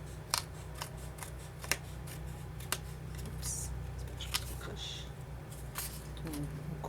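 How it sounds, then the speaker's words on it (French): Scissors snip through scrapbooking paper in a handful of separate, crisp cuts spaced about a second apart, close by, while someone talks softly over a low background hum. "On coupe à l'œil comme ça, c'est jamais bien droit."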